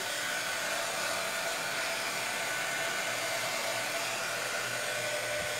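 A hair dryer blows steadily and loudly while drying paint on a handmade wooden sewing chest, a continuous broadband whoosh with no talk over it.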